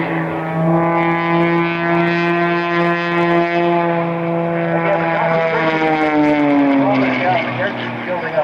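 An aerobatic display plane performs at the Sanicole Airshow's 2015 evening show, its engine giving a loud, sustained droning roar whose pitch sags and slides downward as the aircraft manoeuvres.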